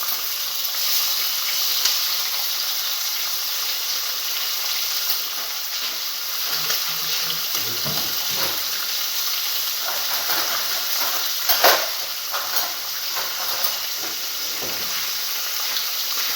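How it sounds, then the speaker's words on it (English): Bacon sizzles in a pan with a steady, loud, hissing crackle that runs unbroken throughout, punctuated by a few sharper pops, with no voices. "now I'm going to add my bacon as well. And let that cook."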